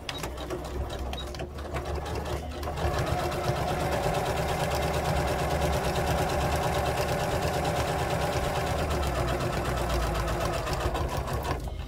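Sewing machine running steadily while back stitching a zippered pocket, a continuous close mechanical whir with a fast rhythmic needle chatter that starts up after a brief pause and holds for about nine seconds.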